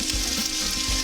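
Fried rice sizzles in oil in a pan, a loud continuous crackling hiss with a couple of low thuds from stirring, close up and without talk.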